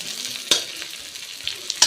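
Onions and peas fry in a pan with a soft, steady sizzle, punctuated by a few sharp scraping clicks of stirring, fairly quiet and with no talk.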